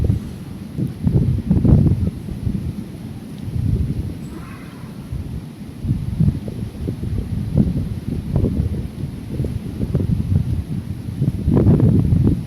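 Strong wind buffets the microphone on a Lakshadweep shore, a loud, continuous low roar that swells into heavier gusts throughout, with no voices.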